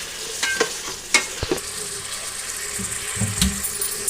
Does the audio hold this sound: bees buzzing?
no